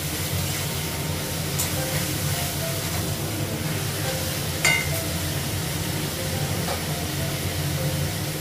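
Potatoes frying in a pan in a Bengali home kitchen give a steady, close sizzling hiss throughout, with one brief utensil clatter partway through.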